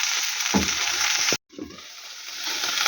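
Eggs with purslane frying in a pan: a steady, bright sizzle with a quick scrape of stirring near the start, a brief cut to silence, then the crackling frying resumes a little quieter.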